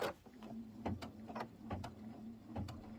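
An embroidery machine stitches a neutral-toned quilt block, giving a soft steady mechanical hum punctuated by regular light clicks and taps roughly every half second, close and fairly quiet.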